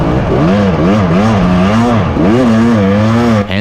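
A hard enduro dirt bike at the Monkey Wrench race, engine loud and close as the rider works the throttle in repeated surging revs that rise and fall, with no talk over it.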